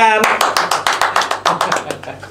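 Quick, rhythmic hand clapping from a small group in an Indonesian student education programme, sharp claps in a steady pulse that follow a short spoken line and taper off near the end.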